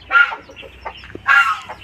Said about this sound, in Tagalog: Yung manok na may alagang may akay-akay na sisiw.